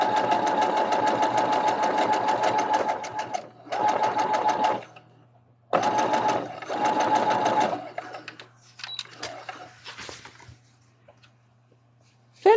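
A sewing machine stitches a hoodie in steady bursts, running for a few seconds, pausing, then starting again, loud and close, with a low constant hum underneath between runs.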